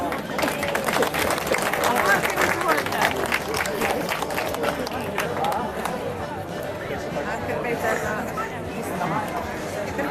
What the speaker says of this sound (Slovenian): Prosim še enkrat za en aplavz